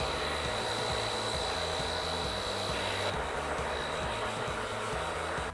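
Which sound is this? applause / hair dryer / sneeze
hair dryer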